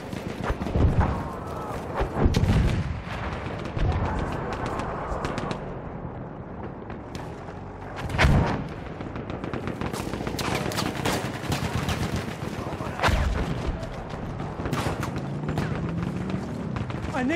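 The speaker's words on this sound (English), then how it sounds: "That's an anti-tank gun!" Battlefield 1 combat with an anti-tank gun firing among other weapons: dense, loud gunfire and heavy booms at intervals, with an agitated voice shouting over the din.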